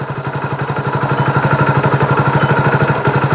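A car engine idles just after being started, its close, steady rhythmic chugging pulsing evenly throughout with no voices.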